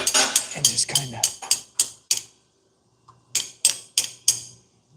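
A hammer drives a part into place past crusted buildup with a quick run of sharp, close metallic taps, a brief pause, then a second short burst of strikes.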